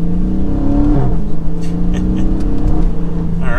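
A 2023 Chrysler 300C sedan with a 6.4L V8 accelerates, its engine note loud and steady with a rising and shifting drone, a gear change near the one-second mark, and tire and road noise under it.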